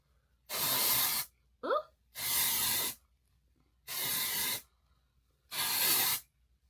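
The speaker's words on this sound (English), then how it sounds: "I'm going to spray this on my hair, and it's supposed to get the oiliness out my hair." Four long, loud bursts of aerosol hair spray misted onto a quick weave, separated by short silent pauses, with a brief clack or gasp-like sound between the first two sprays.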